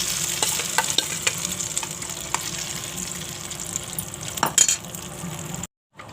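Batter made from poha and upma, added to a hot pan with cumin, is stirred over medium heat, giving steady scraping spoon strokes over a soft sizzle that cut off abruptly just before the end.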